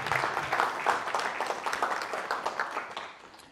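An audience at a live French business conference applauds Ben, the sales manager, with a dense, steady wash of clapping that fades slightly toward the end and has no voices over it.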